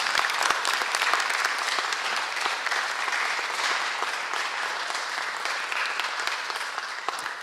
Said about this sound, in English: please give them another round of applause for their outstanding achievements